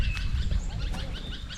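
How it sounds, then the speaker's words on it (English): Faint, thin bird calls and chirps over jawar fields on a farm, heard as a few brief, distant whistles above a steady low rumble of wind or background noise. "you can see there's a plenty of birds here all around."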